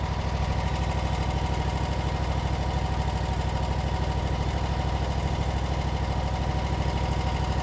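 A Wright Stander ZK autonomous mower's engine idles steadily in manual mode with the parking brake on, giving a constant low, throbbing drone with no pauses.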